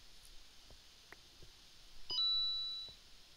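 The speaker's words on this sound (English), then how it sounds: "My phone went off." A mobile phone notification sounds indoors as a short, bright electronic chime that rings out briefly and fades, quiet and close, with a few soft clicks just before it and no talk.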